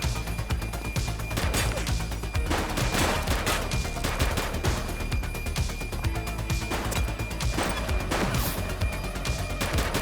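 Dense bursts of gunfire from The Precinct, a police action game on PS5, crackle loudly and almost without pause amid crashing impacts, a busy, sustained firefight with no clear voices.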